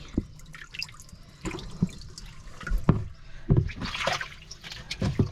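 Water splashes and drips into a container in short, uneven bursts, fairly close, with faint background clatter and no talking.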